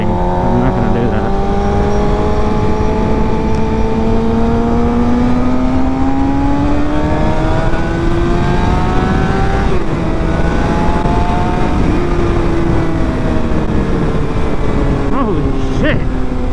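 A 2011 Suzuki GSX-R750 motorcycle engine roars loudly while being ridden, its pitch climbing through the revs, dropping at gear changes and climbing again, with constant wind rush throughout.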